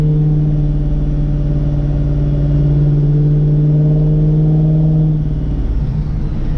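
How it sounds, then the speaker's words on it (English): A 1967 Ford Mustang's deep, steady engine exhaust rumble, loud and close, holding an even drone before easing slightly near the end. "The exhaust note's pretty good, so pretty happy how it sounds."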